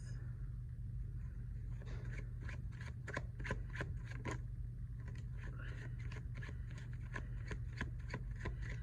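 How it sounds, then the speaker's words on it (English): A stack of tarot cards is shuffled repeatedly, with quick flicking riffles and rubbing close by, over a steady low hum. "These cards are so hard to shuffle with so many of them."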